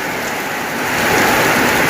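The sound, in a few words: heavy rain falling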